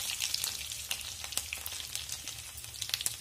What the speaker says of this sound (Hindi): ये सिजलिंग साउंड ना, आई जस्ट लव इट।